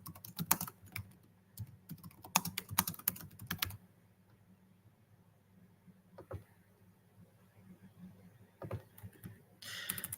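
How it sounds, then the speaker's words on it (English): Fingers tap on a computer keyboard in rapid bursts of clacking keystrokes, close and fairly quiet, with a long pause in the middle before a few more scattered keypresses. "I'm a horrible typer if you guys cannot see that"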